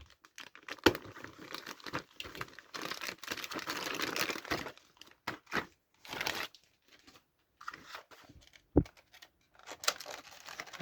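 Plastic packaging around a radio remote control is crinkled and torn open up close, a busy stretch of rustling and crackling that thins into scattered sharp crinkles and taps.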